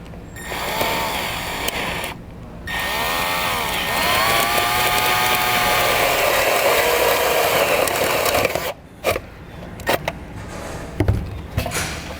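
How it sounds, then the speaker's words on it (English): A power drill with a hole saw whines and grinds steadily through material for several seconds, pitch shifting as it bites, then stops with a few clattering knocks. "I use a 1/16 of an inch bit to help guide it, and I'll go ahead and drill it out."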